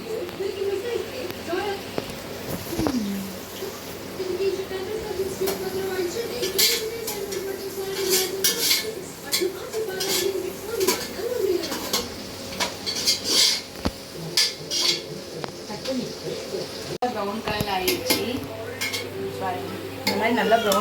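Onions fry in a pan for chicken biryani, a steady sizzle broken by scraping, clinking stirs of a utensil against the pan, with a voice talking over the cooking now and then.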